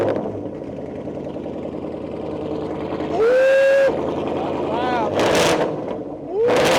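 A 2024 Ford Mustang GT with its muffler and resonator deleted roars loudly up close, a raspy exhaust drone swelling in two strong revs with rising pitch, and someone briefly exclaims over it.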